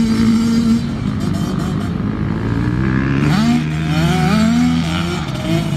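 Yamaha YZ65 dirt bike lapping the Riverdale track, its small two-stroke engine droning loud and steady, pitch rising and falling as it shifts and revs through the lap.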